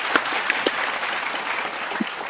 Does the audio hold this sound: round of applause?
yes